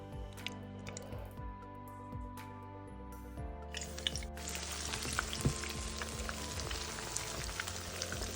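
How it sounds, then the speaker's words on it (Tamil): Boneless Andhra style chapa fish fries in a pan over medium heat with a steady crackling sizzle, heard faintly beneath background music. "மிதமான சூட்டில் அழகாக வேக வச்சு எடுப்போம்."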